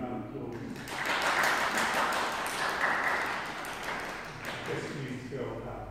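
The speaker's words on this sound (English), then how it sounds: "let's give a round of applause" Applause from a congregation welcoming a Royal Highness at a Harvest Thanksgiving church service: a steady, fairly soft wash of clapping that rises after a moment and tapers off, with voices briefly present.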